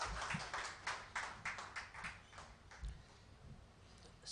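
Faint, somewhat rhythmic clapping from an audience greeting a speaker at a teachers' gathering, with a run of distinct, evenly spaced claps and no talk.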